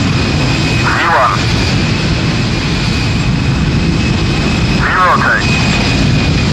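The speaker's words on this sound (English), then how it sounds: "Every 2 minutes, somewhere in the world, KLM takes to the skies." A KLM jet airliner takes off, its engines giving a steady, loud broadband roar that fills the whole clip, with two brief chirp-like bursts rising above the continuous rumble.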